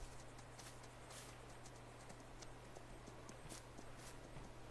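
Horse hooves in the farming video game Virtual Homestead, a steady, quiet clip-clop of walking steps over a constant low hum, with no voices.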